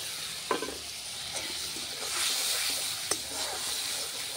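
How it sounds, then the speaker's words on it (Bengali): Pabda fish curry tempered with tomato, nigella seeds and green chilli sizzles in a pan: a continuous close frying hiss broken by a few sharp stirring clacks. "এখানে তো পাবদা মাছের ঝাল হচ্ছে। এখানে টমেটো, কালো জিরে, কাঁচা লঙ্কা সব ফোড়ন দিয়ে দিয়েছি।"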